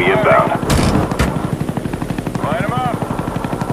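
Rapid rhythmic thumping of a Huey helicopter's rotor in a first-person shooter game, growing steadily and running under a burst of gunfire and brief shouted voices.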